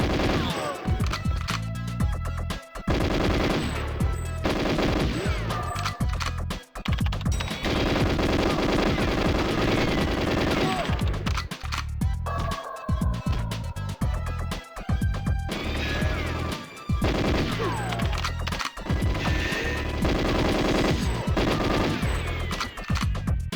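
Unsilenced MP5 fire in the N64 shooter GoldenEye 007: dense, sustained automatic bursts that rattle on almost continuously with brief gaps, loud and harsh, with game explosions and crashes mixed in.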